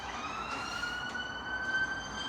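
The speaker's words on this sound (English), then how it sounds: "Sorry if you can hear fire alarm going off" A steady, high-pitched fire alarm siren wails continuously in the distance behind constant traffic rumble from a nearby main road.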